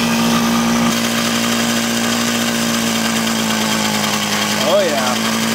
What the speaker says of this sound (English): Let me see if I can get that idle tuned a little bit. It sounds like an air leak.